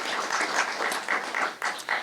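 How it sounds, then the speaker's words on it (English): Audience applause at a school district check presentation: a short burst of brisk clapping from a small crowd, close and even, with no speech over it. "A big round of applause for them as well."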